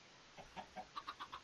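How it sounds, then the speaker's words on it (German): Chickens in the video game Minecraft give a series of short, soft clucks, about six evenly spaced bursts that grow slightly louder toward the end, with no talking. "Ah, hier sind hier zwei Hühner."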